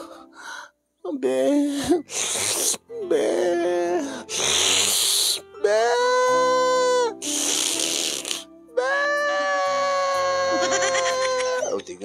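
A person mimics a bleating goat with drawn-out, wavering nasal cries, several loud bleats separated by short gasps and pauses, close and dry.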